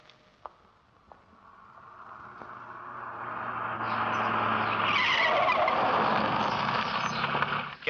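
A car skids to a stop with a long tyre screech that swells loud and close, rising over several seconds and holding to the end, with a couple of faint sharp knocks before it.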